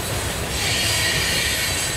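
Norfolk & Western 611 steam locomotive and its train picking up speed, a loud, steady roar of rolling wheels and rail noise close by, with a faint squeal and clatter running continuously.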